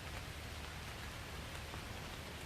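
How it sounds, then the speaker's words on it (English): Heavy rain pours steadily outdoors in a deer park, a dense, constant hiss of drops with no pauses, fairly quiet overall and without voices. "pissing down with rain."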